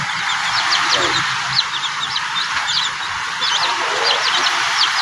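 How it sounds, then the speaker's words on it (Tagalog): Native chickens in their coop, with steady chirping and peeping close by over a constant background hiss, plus a faint low voice at moments. "Ayan mga ka-chicken, malaki na sila."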